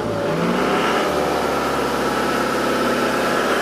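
A Troller Jeep engine holds a steady rev at about 2000 rpm, a loud, continuous mid-pitched drone with rough vibration, close by and alone with no voices.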